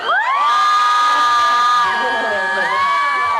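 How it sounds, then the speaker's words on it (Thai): A fan club cheers at the Daradaily 2015 award ceremony in Thailand, a loud, sustained crowd roar of shrieks and whoops from many young fans that holds steady for the whole stretch. "ไหนขอเสียงแฟนคลับหน่อยสิคะ"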